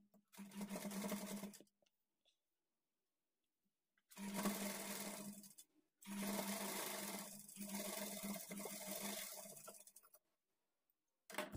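A sewing machine stitching a folded lining blouse seam runs in three separate bursts of rapid whirring stitches, with short silent pauses in between, heard close and alone.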